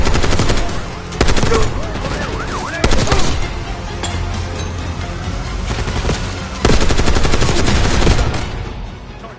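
Call of Duty Black Ops 6 firefight with loud automatic gunfire in repeated bursts, rapid rattling volleys separated by short pauses, over a rumbling battle background.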